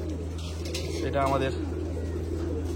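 Pigeons coo inside a loft, one short rolling coo standing out briefly over a constant low hum while someone says a few words.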